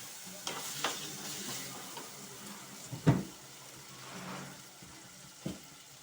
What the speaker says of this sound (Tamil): அப்புறம் கருவேப்பிலை ஒரு பொடி, பச்சை மிளகாய் 5 நல்லா வதக்கணும்.